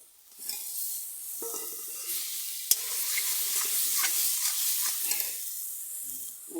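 Potatoes go into a tomato masala frying in a pan for Amritsari aloo and are stirred in. A soft, steady sizzle runs under scraping spoon strokes, with one sharp clunk partway through.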